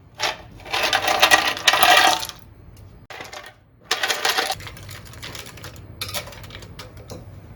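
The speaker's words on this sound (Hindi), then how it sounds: "और अब हमें इसमें डालनी है बहुत सारी बर्फ़।" Plenty of ice cubes tumbling into chilled milk sharbat, bursts of clattering and rattling in several separate pours, loud and close, with quieter gaps between.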